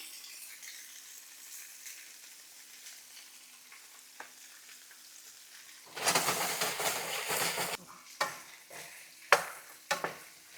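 Squash, zucchini and onions cooking in a pan, with a loud broadband sizzle and stirring scrapes starting partway through, preceded by a quieter low hiss, then a few sharp clatters near the end.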